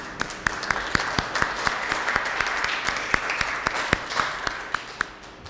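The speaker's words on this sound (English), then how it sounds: "Applause." Applause from an audience at a Phi Sigma Iota honor society induction ceremony, steady clapping from a crowd with sharp individual claps standing out, sustained for over five seconds.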